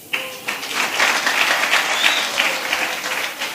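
Enthusiastic applause from a standing audience honours the judges at the finale of a Banyamulenge cultural competition, rising quickly after a brief quiet start and staying loud and dense throughout.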